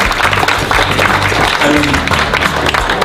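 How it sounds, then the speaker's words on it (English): Dinner guests at a chef's table winemaker's dinner clap together, a dense steady burst of applause filling the room for about three seconds, close and fairly loud. "I think she deserves a hand of applause because this is amazing."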